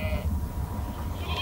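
Sheep bleating inside the horror video game Amanda the Adventurer, a steady close animal cry that holds through the short moment without any talk over it.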